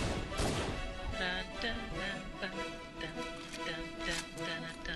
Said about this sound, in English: Quit shooting the glass.